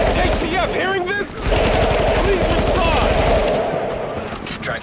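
Rapid small arms fire bursts in a firefight in the video game The Division, loud and sustained with automatic rattling, as a voice speaks over the gunfire.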